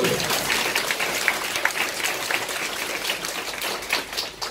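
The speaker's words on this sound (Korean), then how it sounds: "박수 내주시라고." Audience applause at a Korean lecture on retirement planning and network marketing: a sustained, even patter of many hands clapping, moderately loud and close, tapering slightly toward the end with no speech over it.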